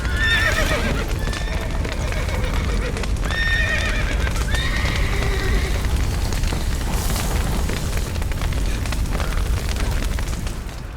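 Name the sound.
horses neighing and galloping, video game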